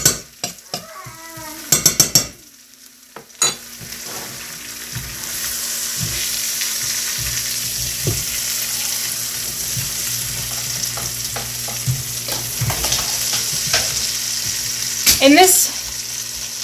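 Onions frying in a pan for rice on a stove, a steady close sizzle under occasional utensil clatter and stirring scrapes, with brief bursts of louder clanking near the start and end and a short spoken word.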